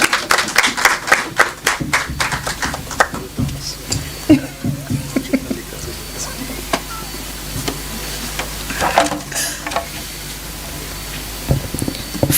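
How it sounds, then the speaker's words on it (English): Audience at a national education funding forum claps in a burst of applause that starts dense and loud, then thins into scattered claps over a steady room hum, with a few isolated claps near the end. "Give them a round of applause."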